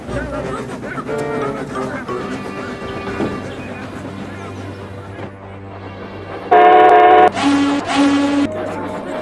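A cartoon train pulling into a station, rumbling and clanking under a narrator's voice, then a loud two-tone horn blast near the end.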